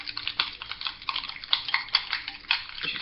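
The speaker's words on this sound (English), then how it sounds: "you're just going to want to mix that through, like so" A spoon stirs prawn cocktail sauce in a bowl, giving quick, steady clinks and scrapes against the bowl's side, close and moderately loud.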